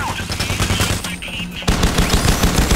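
Automatic weapons hammer away in Payday The Heist, dense overlapping bursts of gunfire close and loud throughout, with a brief dip before the shooting surges again.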